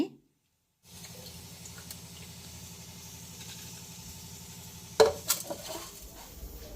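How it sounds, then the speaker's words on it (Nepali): Soaked rice for Nepali sel roti is tipped into a sieve, with a steady low trickle of water draining through, then a cluster of clattering knocks and taps of the sieve and utensils near the end; no talking. "अब चाल्नीमा चाहिँ यसरी हामीले सबै तर्याउनुपर्छ पानी।"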